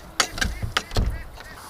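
A duck lets out a few short, loud honking calls in quick bursts, close by, with a dog present and a person speaking nearby.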